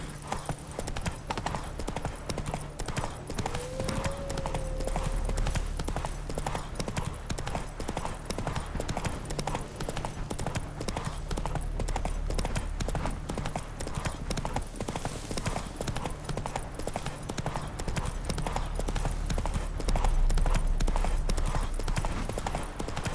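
A horse ridden in The Witcher 3 video game clip-clops with steady, rhythmic hoofbeats throughout, close and even, with a brief whinny early on.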